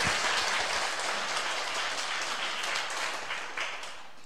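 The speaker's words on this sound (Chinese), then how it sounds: "我们要替团队鼓掌" An audience at a bilingual lecture in Yunlin, Taiwan, applauds the team: a broad, even wash of crowd clapping sustained throughout and fading slightly toward the end.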